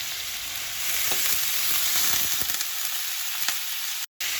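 Skate wing frying in a pan with knobs of Cornish butter and fresh lemon, giving a steady, bright sizzle and crackle close up with a few sharp spits, before cutting out abruptly near the end.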